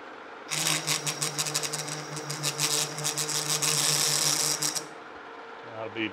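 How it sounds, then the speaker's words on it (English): A milling machine with a 45 degree cutter cuts a large chamfer into a steel plate in a machine shop, a steady loud grinding, chattering whir with a low motor hum that runs for several seconds before stopping. "Got a 45 degree cutter here, and I'm just going to put a nice big chamfer in there."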